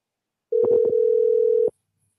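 A steady telephone dial tone plays for just over a second while a call is placed, loud and clear, with brief clicks at the start and end and no voices.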